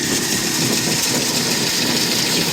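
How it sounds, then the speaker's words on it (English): A rebuilt 75-year-old Clipper No. 2B Special seed cleaner runs as it cleans soybeans, giving off a loud, steady mechanical drone with a constant rattling hum and no pauses or voices. "This old seed cleaner is doing a heck of a job."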